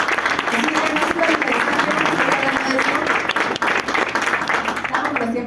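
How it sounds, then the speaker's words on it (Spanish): An audience at a talk on cultural diversity breaks into loud, sustained applause, a dense wash of clapping that fills the whole stretch and fades only slightly near the end. "Un aplauso fuerte."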